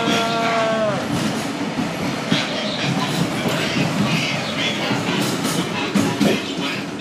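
Disneyland Railroad train running through the park at night, a steady close rumble of wheels and carriage noise with a brief squeal at the start, a voice faintly audible underneath.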